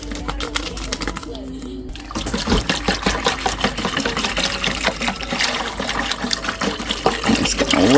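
Water pours into a crockpot to make au jus, a steady splashing rush that starts after a brief quiet moment and continues to the end.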